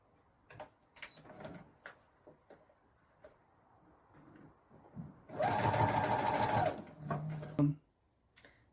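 A sewing machine stitching a canvas tote bag strap, a close steady mechanical whir lasting a couple of seconds, then shorter backward and forward runs, after quieter handling clicks.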